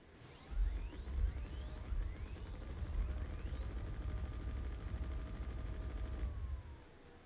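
Ship turret guns, size 4, firing in the space game Star Citizen, a sustained deep rumbling barrage with rising whooshing tones over it, steady and fairly quiet, cutting off near the end.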